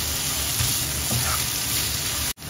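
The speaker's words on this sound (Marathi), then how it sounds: "आता हे चांगलं लसूण आपल्याला परतून घ्यायचं आहे." Garlic sautés in a pan with a loud, continuous, even sizzle, a few faint stirring scrapes, and an abrupt brief cut near the end.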